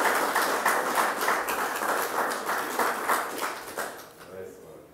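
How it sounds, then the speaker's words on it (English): An audience at a cookbook launch gives a sustained round of applause in honor of Sylvia Hunt; dense, steady clapping fills the room and slowly thins toward the end. "Let's give her a tremendous round of applause"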